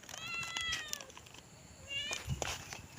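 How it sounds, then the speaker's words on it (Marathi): A cat following people outdoors gives two drawn-out meows, one early and one later, fairly close and clear over quiet background noise. "आमची मांजर पण आमच्या पाठून येते हे बघा"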